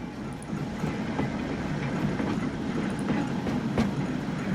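A PRR GG1 electric locomotive running in the railway game Transport Fever gives a steady low rumble with faint clattering, continuous and moderately loud throughout, with no voices.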